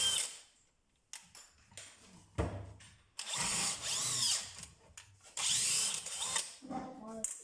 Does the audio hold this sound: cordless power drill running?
yes